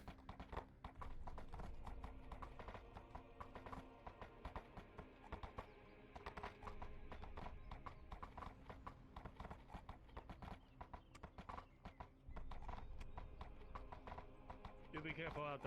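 Steady clip-clopping of horse hooves in VRChat runs throughout, with a game soundtrack and voices talking over it.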